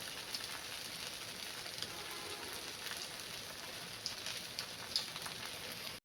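Jowar flour dhirde pancake roasting in a pan, a faint, steady crackling sizzle with soft irregular pops and no talk.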